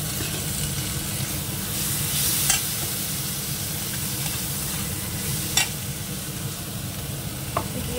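Fried onion with chili paste, ginger paste and garlic paste sizzles steadily in a pan while a spoon stirs, a continuous close hiss with a few sharper scrapes and no speech.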